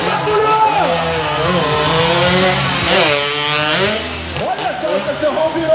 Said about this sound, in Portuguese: o piloto da ProTorque vai voltar acelerando, vai jogar pro alto